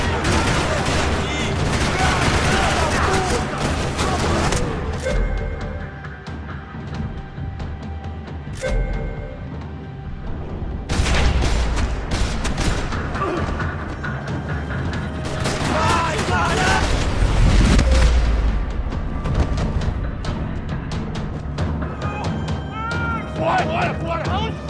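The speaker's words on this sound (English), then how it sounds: "Another parking lot rattling with gunfire." Heavy gunfire rattles through a parking lot in the video game Max Payne 3, with bursts of automatic fire, loud shots and mechanical clatter continuing throughout, interrupted by brief pauses.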